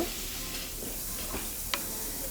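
Onion and green chili frying in a little mustard oil with cumin and turmeric, a quiet, even sizzle with a few soft stirring clicks, no voices.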